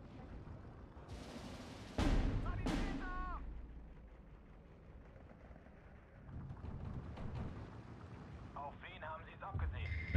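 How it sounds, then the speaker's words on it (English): Booming 120mm mortar fire in the Steel Division 2 war game: two sharp loud blasts early on, then rumbling impacts and scattered battlefield noise. Someone speaks near the end. "So many 120mm mortars."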